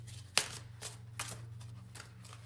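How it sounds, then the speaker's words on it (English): A deck of cards is shuffled by hand, a sharp riffle snap followed by a few softer, quick rustling bursts, close and quiet with no talk. "Let me shuffle these real good"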